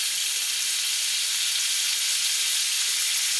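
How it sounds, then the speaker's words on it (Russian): Meat frying in a pan on a gas stove outdoors at a night fishing camp gives a steady, even sizzle that holds close and constant throughout, with no voices over it. "Греем мясо, греем еду."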